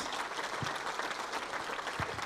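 An audience at a mayor's New Year greetings event applauds the president, steady dense clapping throughout at a fairly quiet level.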